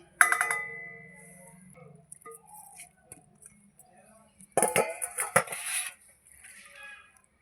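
Goat and chicken meat are handled in a large metal bowl, with ringing clanks and scrapes of metal, a quiet lull, then a burst of knocking and rattling near the end.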